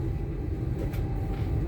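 Moving passenger train, a steady low rumble and clatter of the carriage rolling along, continuous and fairly loud with a brief faint hiss partway through.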